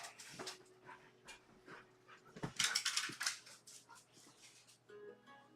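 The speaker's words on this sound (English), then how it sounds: "Dogs come here going crazy just because somebody came to the door." Several excited dogs pant and whimper indoors after someone comes to the door, with quiet breathy panting that builds into a louder flurry of whines and snuffles near the middle.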